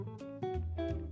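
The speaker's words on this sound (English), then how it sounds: "so that noise you hear, it's stirring all the milk around to help keep it's keeping that milk nice and cold" A milk bulk tank agitator stirs milk held at 37 degrees Fahrenheit in a dairy barn, giving a steady low mechanical hum with tonal harmonics and a slight rise in level partway through, with no talk.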